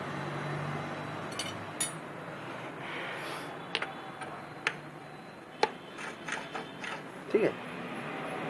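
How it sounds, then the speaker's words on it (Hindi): Scattered metallic clicks and taps ring out as a bolt is loosened and a gear fitted on a Pulsar motorcycle, sparse and irregular over a low background hum, growing a little busier toward the end. "इसका एक बोल्ट जो खोल करके हम इसका एक गियर और लगा देते हैं"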